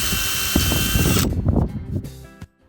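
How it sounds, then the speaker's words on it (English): Power drill pre-drilling white oak roof strapping for galvanized nails on a timber frame sawmill shed roof; a loud, steady whine runs close for about a second, then stops, leaving knocks and clatter that fade out. "everything needs to be pre-drilled before I can fasten them to the rafters with galvanized nails"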